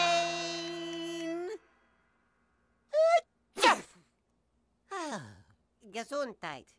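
A sharp sneeze bursts out amid breathy vocal sighs and gasps, close and fairly loud, with short silences between the sounds.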